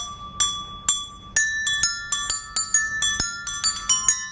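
Bells struck one after another in a steady, ringing sequence, each bright metallic strike sustaining and overlapping the next, close and clear with no talking.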